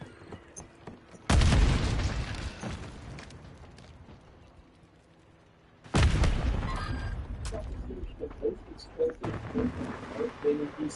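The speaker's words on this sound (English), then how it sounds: "Right behind, tossing grenade!" Grenades explode in Call of Duty MW3, two loud booming blasts a few seconds apart, each rolling off into a long rumble, followed by scattered gunfire and game noise.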